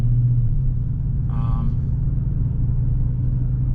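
A Chevy Silverado pickup driving on a hot day, a low steady road rumble and engine drone from inside the cab, with a brief faint tonal chime partway through.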